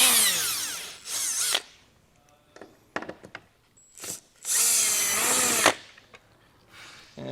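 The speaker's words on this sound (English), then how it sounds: "there's going to be 2 T30 screws that we're going to go ahead and take out" A power tool drives out T30 screws from a 2021 Jeep Cherokee tail light in sharp whirring bursts, two long runs with short blips between, close and alone.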